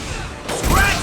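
Gunfire in the video game Mass Effect 2 comes as a short burst of shots over rumbling battle noise, with a rising whine near the end.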